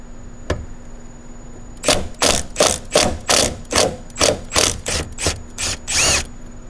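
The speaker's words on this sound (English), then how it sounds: "we're gonna take these T40 bolts out and off comes the mirror" Ratchet backing T40 bolts out of a Tesla Cybertruck side mirror, a loud close series of about a dozen rhythmic clicking strokes after a single early click.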